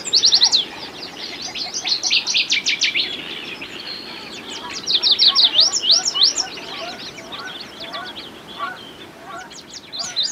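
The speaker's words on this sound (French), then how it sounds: "des petits bruits d'oiseaux, on en entend partout" Birds chirp and tweet in rapid bright trills and clustered calls, loud and close, in a recording played at an animal sound exhibition, with a few softer honk-like calls between bursts.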